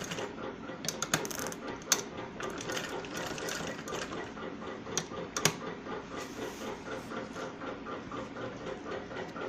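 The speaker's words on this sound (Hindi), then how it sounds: "यहाँ से ऐसे सीधी सिलाई लगाएंगे इसमें" A sewing machine runs a straight seam on an apple-cut kurti, its needle mechanism ticking in a fast, even rhythm with a few louder clicks, close and continuous.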